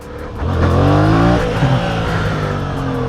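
A Yamaha MT-07 naked motorcycle accelerating on a test ride, its engine note climbing steadily through the gears, loud and close, with a sustained roar and no talking.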